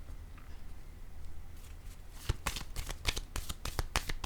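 A tarot card is laid down on a table after a quiet lead-in, followed by a quick run of crisp card snaps and flicks close by.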